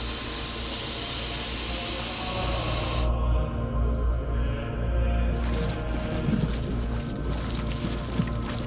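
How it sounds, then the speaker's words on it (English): A geothermal steam vent at the Krysuvik hot spring in Iceland gives off a steady, loud, broad hiss that roars on without a break. The hiss thins briefly partway through and then surges back. "that noise you can hear is the steam vent right behind me"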